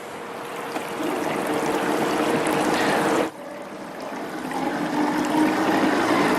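A GW25 spiral concentrator wheel running with water, a loud steady rush and trickle that briefly dips midway, then resumes and swells slightly.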